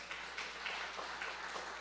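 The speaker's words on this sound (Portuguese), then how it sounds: "Uma salva de palmas para Jesus" Congregation clapping in applause for Jesus during a Portuguese-language Sunday worship service in church, a steady, moderately faint wash of many hands with no talking.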